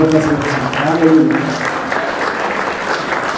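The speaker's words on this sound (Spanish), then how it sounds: "Póngase de pie, tomamos un aplauso" A church congregation stands and applauds, a steady wash of clapping that runs throughout beneath a voice talking over it early on.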